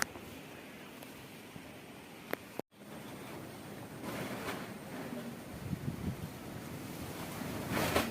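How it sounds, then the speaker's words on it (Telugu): Strong wind rushes and buffets the microphone in a continuous roar, briefly cutting out partway, then swelling louder again. "అంత గాలి వేసేస్తుంటే"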